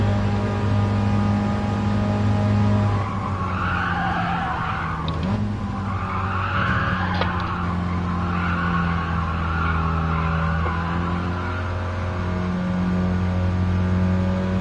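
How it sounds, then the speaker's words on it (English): Race car in the Gran Turismo Sport video game, its engine droning and revving steadily with tire squeal and skidding over a continuous loud run, no talk. "Just let the engine bog a touch there"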